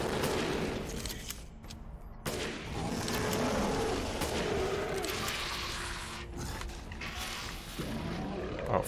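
Gunfire crackles through a Resident Evil Village fight, with sustained bursts of shots and mechanical clatter layered over a steady, dense rumble for the whole stretch.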